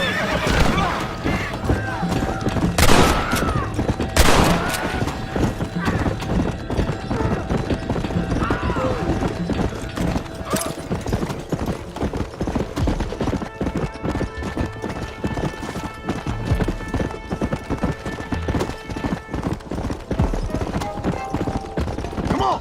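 Horse hooves clip-clop in a fast, steady galloping rhythm throughout a Red Dead Redemption 2 ride, with occasional neighs and voices talking over the hoofbeats.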